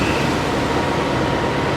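The Kamandaka train shunts at a station, giving off a steady, loud rumble of rolling stock with no pauses.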